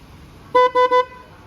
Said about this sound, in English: Let's listen to the horn. As always, nice and loud.